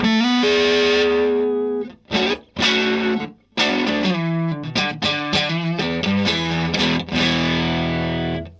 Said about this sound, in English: the sound of the way a fuzz reacts to the volume pot is really important